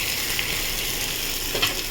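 Tomato and green chilli frying in a pan, giving a steady close hiss of sizzling oil with small crackles and a faint stir near the end.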